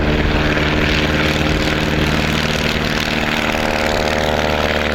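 A Piper Super Cub taildragger drones steadily with a loud, close propeller and engine hum, a constant buzzing tone holding at even power without pauses or voices.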